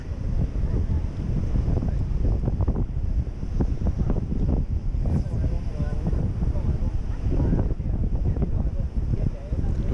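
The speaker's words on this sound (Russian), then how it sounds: "Ветрище дует, друзья, кошмарный." Strong wind blasts across a microphone on a sea shore during fishing, a loud, continuous low roaring rumble with gusting buffets and faint surf beneath, no voices present.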